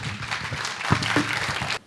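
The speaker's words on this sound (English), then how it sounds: "please give him a warm applause" A lecture audience gives a brief, moderate round of clapping that stops abruptly, with a faint voice underneath.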